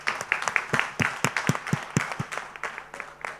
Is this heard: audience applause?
yes